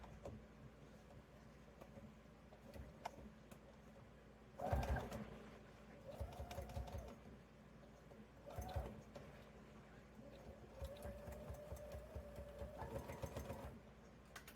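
A sewing machine stitches fabric panels for a tote bag, running in several short bursts of varying length with quiet gaps between, the longest run near the end.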